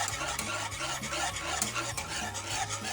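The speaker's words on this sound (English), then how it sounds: "We're just going to continue to whisk it." A whisk beats eggnog mixture with egg yolk in a pot over low to medium heat, producing steady, rapid rhythmic scraping and swishing against the metal, close and continuous with no voices.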